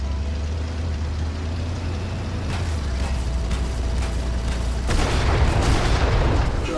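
Dropship deploying in the video game Switchblade: a steady low engine rumble shifts into a series of booming thuds, then a louder broadband whooshing roar toward the end.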